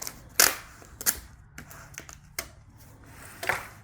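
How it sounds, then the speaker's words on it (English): Packing tape is pulled and pressed onto a cardboard shipping box, giving several sharp ripping and slapping bursts at irregular intervals, close and fairly quiet, with short pauses between. "We have to do some additional taping here."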